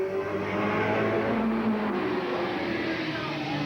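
Race cars roar continuously around the oval at Eugene Speedway in 1987, engines droning loud and steady as they circle the track during a caution period after a spin.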